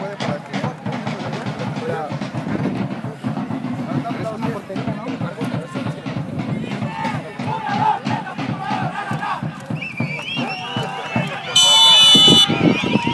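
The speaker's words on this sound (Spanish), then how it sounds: "Claro que sí, un fuerte aplauso," Crowd in a football stadium applauding and cheering before a Linces vs Tampico Madero match, sustained roaring mass of voices and claps with rhythmic chanting, a whistle-like tone near the end.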